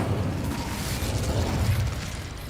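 Incendio fire spell cast in Hogwarts Legacy: a brief, rough burst of fiery rushing noise with low rumble, sustained for a couple of seconds at close range.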